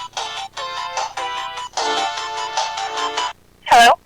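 A phone rings with an incoming call, a repeated electronic ringtone in short bursts for about three seconds, fairly loud and close, followed by a single brief tone.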